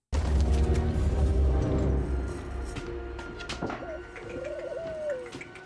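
Birds coo and call over a steady low rumble of background noise, with a rising, warbling call standing out near the end.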